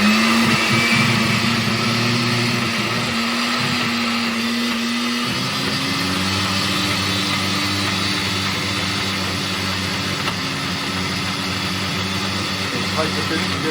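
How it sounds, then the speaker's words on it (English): A kitchen blender whirs continuously, grinding Hung Lay curry paste ingredients moistened with a little oil; the loud motor drone shifts pitch as the load loosens and keeps running steadily throughout. "stick that up on the blender."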